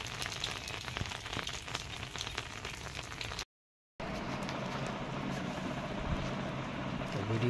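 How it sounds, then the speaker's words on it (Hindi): Steady hiss of rain falling on a rural Indian village, broad and continuous, briefly cutting to silence before the downpour resumes at a similar level. "हाँ झिकिर झिकिर पड़ता है बारिश"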